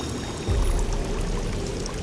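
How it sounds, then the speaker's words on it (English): Loud flowing water rushes and pours steadily in the survival video game Sons of the Forest, a continuous splashing stream close by with no talking. "This water is so loud."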